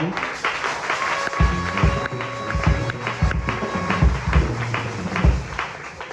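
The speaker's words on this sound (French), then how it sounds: "nous vous prions de l'encourager avec vos applaudissements" Applause for a pastor at a church anniversary celebration blends with music, low drum-like thumps and sustained keyboard tones, steady and fairly loud throughout.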